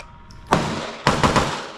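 A Springfield Prodigy 2011-style double-stack pistol with ported barrel fires three sharp, close gunshots, one alone and then two in quick succession.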